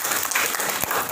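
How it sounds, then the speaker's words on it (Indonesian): Applause from an audience at a talk on writing and reading, a short burst of many hands clapping, dense and steady with no voices. "Tepuk tangan untuk dia."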